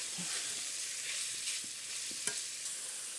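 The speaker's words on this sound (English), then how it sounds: "So what I'm looking at is a quick browning in some bacon fat." Beef browning quickly in bacon fat in a pan, a dense continuous sizzle and crackle heard close up, with a few faint stirring knocks and no voices.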